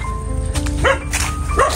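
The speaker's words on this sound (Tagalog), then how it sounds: "May aso." A dog barks twice in short yips from some distance, over a steady low hum of background noise, in the Philippines after Typhoon Kristine.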